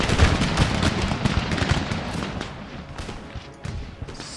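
Loud, crackling musket volleys from line infantry in the video game Empire Total War, with heavy overlapping shots in the first half that thin into scattered, fainter reports toward the end.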